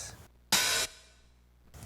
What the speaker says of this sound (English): when they work together, it sounds like this